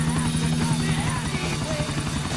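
A helicopter in the video game GTA IV The Ballad of Gay Tony gives off a continuous, close rotor drone with a steady low throb, with a voice faintly audible over it.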